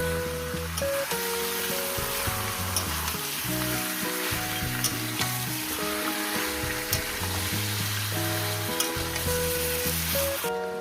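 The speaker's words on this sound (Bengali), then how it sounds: "চিকেনটাকে দিয়ে আমি হাই গ্যাসেই ভাজবো" Chicken sizzles hard in oil over a high gas flame, a dense continuous crackle and hiss running the whole time, close and steady, with occasional faint clicks and no talking.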